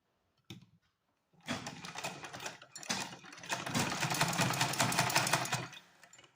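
A sewing machine runs for a few seconds stitching down pleats in cloth for a small garment, a steady close whirring rattle after a brief click and pause.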